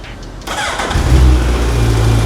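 A used superbike on its stock exhaust fires up loud and close after a brief crank, then settles into a deep, steady rumbling idle.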